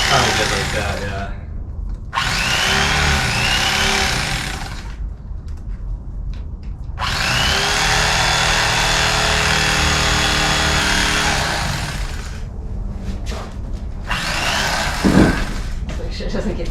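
A meat cutter saw cuts through thick material during a Sprinter van build, giving loud, harsh sustained bursts of grinding noise separated by short pauses.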